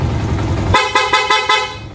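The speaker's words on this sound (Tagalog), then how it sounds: "Naka dual horn din to mga sir." A low rumble gives way to a loud, sharp dual horn on a Yamaha Sniper 150 motorcycle honked four times in quick succession, with a bright dual-tone blare close by.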